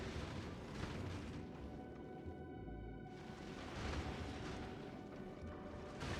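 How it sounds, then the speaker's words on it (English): Rockets in the Factorio Space Age game blast asteroids, producing a steady barrage of overlapping booms and bursts with a brief lull midway, moderately quiet under game ambience. "those rockets just annihilate these things"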